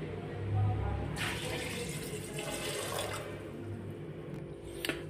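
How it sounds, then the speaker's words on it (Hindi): Water is poured into a pressure cooker holding chickpeas, a steady close splashing gush that continues for several seconds, ending with a faint clink. "पानी डाल दिए हैं"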